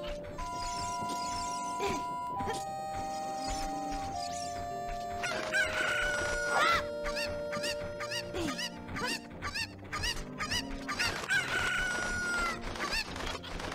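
Chickens in The Legend of Zelda: Ocarina of Time, in Kakariko Village, give repeated clucks and a loud rooster-like crow over steady game music, with no talking.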